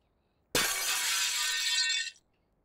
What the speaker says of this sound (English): You throw a piece of glass at me.